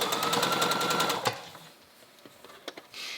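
A sewing machine stitches a vest seam in a fast, even run of close, rhythmic needle clatter for about a second, then stops, leaving a few faint clicks and handling noises.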